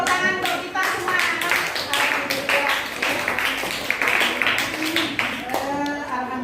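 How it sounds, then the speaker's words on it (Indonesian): An audience claps hands together after a classroom lesson on plant adaptation, a dense, steady round of applause filling the whole stretch, with a voice faintly audible underneath. "silakan tepuk tangan untuk kita semua"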